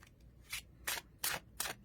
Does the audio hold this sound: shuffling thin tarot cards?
yes